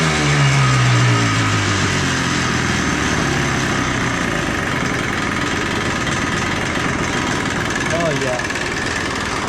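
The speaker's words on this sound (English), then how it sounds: "Idling good." A Yamaha Blaster two-stroke engine fitted with new Boyesen dual-stage reeds idles loudly and steadily up close, with a brief deeper rise at the start and a short spoken remark over it.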